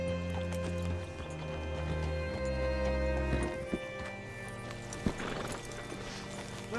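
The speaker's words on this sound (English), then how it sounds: "Hitch your horse up here." Horse hooves clip-clopping at a walking pace in Red Dead Redemption 2, with a horse snorting and whinnying close by amid steady background ambience.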